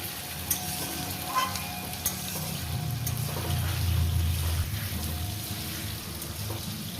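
Potatoes frying in oil in a pan, a steady close sizzle with a low bubbling rumble that swells in the middle, plus a few light utensil taps.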